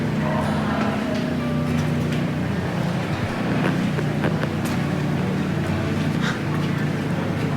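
Machinery below a gold dredge trommel, including Ingersoll Rand engines driving gears, runs with a loud steady drone and mechanical rattle, close and continuous, with occasional clanks.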